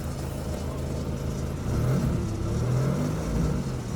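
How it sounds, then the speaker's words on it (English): A battered Seat Ibiza idles with an exhaust leak, giving a steady, close, low rumbling drone that swells a little louder partway through as the engine picks up slightly. "There's the exhaust leak."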